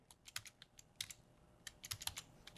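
Quick bursts of computer keyboard typing as a file name is entered while saving a picture in Photoshop, crisp close clicks in short rapid runs with no talk.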